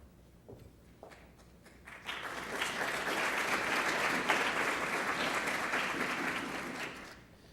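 An audience at the 2002 CREST Awards ceremony breaks into steady applause, starting with a few scattered claps and swelling into sustained clapping for several seconds before fading.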